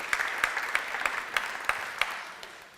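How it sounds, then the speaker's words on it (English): A thin, brief round of clapping from a small audience in a church hall after a community panel discussion on Stratford Park Lido, with a few distinct hand claps standing out over a soft patter that fades away. "Let's give them a big round of applause."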